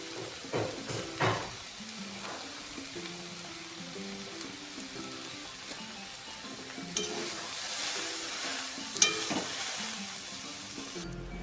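Soybeans fry with spices and Kashmiri chili powder in a pan for a Bengali squash and soybean dish, a steady close sizzle with occasional stirring scrapes and clatters, and no talking.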